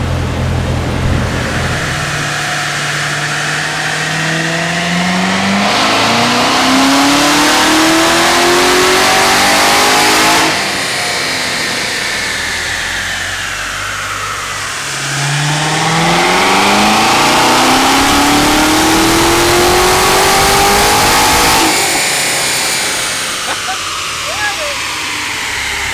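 A Chevrolet Corvette C7 Z06 engine revs repeatedly, each sweep climbing through the range and then falling back, loud and close with a steady roar between pulls.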